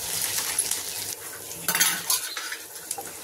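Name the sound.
stirring fried dried red chillies in a pan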